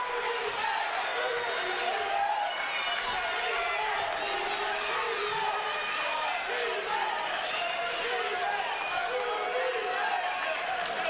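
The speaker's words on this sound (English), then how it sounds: "Boy, this crowd has really gotten into it." Steady crowd roar and cheering in a basketball arena during a college game between the Cards and Navarro, loud and continuous with shouts and squeaking sneakers mixed in.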